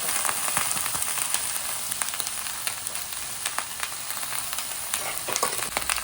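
Mango, garlic and jaggery frying in a pan for a mango pulissery, a constant soft hiss of sizzling with light scattered ticks and stirring clicks, moderately quiet and without voices.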